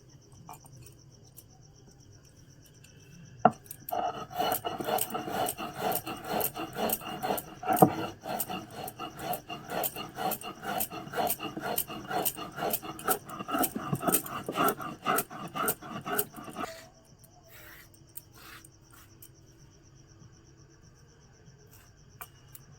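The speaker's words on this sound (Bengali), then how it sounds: "এবার চিনিটা শিলে ফেলে গুঁড়ো করে নেব।" Sugar crushed to powder on a flat grinding stone in a village kitchen, a dense run of rapid scraping, grinding strokes, fairly close, lasting about thirteen seconds before stopping, with steady insect chirping in the background and no talk.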